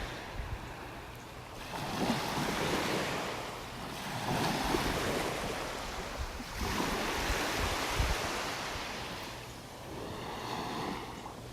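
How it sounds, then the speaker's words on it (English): Small, gentle waves lap on a calm beach shore in North Naples, Florida, on a flat morning, washing in soft surging swells every few seconds with light wind rumble and no voices. "Just some little tiny waves lapping on the shore here."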